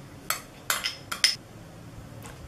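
Dry mukhwas mouth freshener ingredients, including sweet supari, being mixed in a bowl, giving four or five quick, light clinks and rattles close by, then a fainter one, with no talking.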